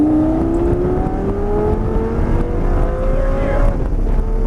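A Lamborghini engine at full throttle on a track at Grosse Ile Airport, a loud, steady roar with rising whining tones, heard close and alone.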